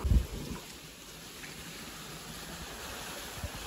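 Steady gentle water flow in a fresh-water swimming pool, a soft continuous wash after a brief low thump at the start, no voices.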